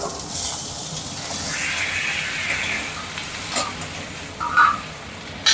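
Onion and tomato frying in oil for a mutton gravy masala, a steady hiss and sizzle with occasional stirring scrapes and pops, close and continuous.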